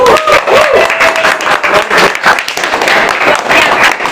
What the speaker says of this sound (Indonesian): Tepuk tangan dulu buat Komet 2020.